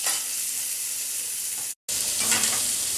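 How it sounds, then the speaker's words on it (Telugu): Chopped onions hit hot leftover oil in a pan for a parwal curry, giving a loud, steady crackling sizzle with stirring, broken by a brief dropout before the frying noise resumes. "దాంట్లోనే ఉల్లిపాయలు వేసేసుకుందాము"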